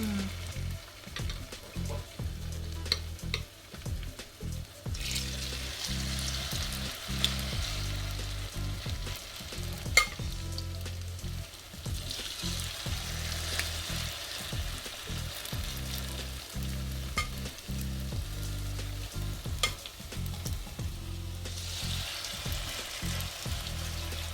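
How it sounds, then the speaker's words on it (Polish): Steady sizzling of zucchini fritters frying in very hot oil, crackling continuously, with soft low clunks from the pan now and then. "w taki sposób smażymy, ale ogień powinien być bardzo gorący"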